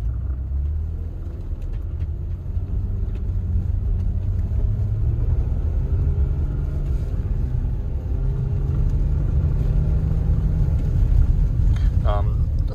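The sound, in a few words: car accelerating on snow with Michelin X-Ice Snow tires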